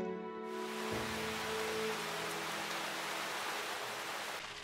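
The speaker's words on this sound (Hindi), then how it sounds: "बारिश बहुत तेज हो रही है।" Heavy rain pours in a Titipo cartoon scene, a dense, steady hiss of downpour filling the clip after a brief musical tone at the start, with no voices.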